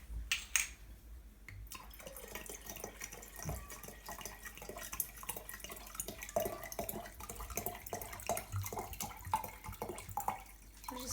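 Water pours into a jar for making water kefir, a faint continuous trickle with small splashes and drips throughout.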